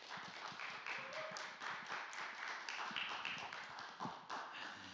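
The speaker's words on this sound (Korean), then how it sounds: "우리 박수로 심준수 전도사님을 모시겠습니다." A congregation at a youth worship service claps to welcome a preacher, a soft, continuous patter of many hands heard from a distance.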